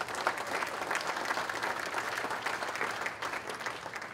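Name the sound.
luncheon audience applause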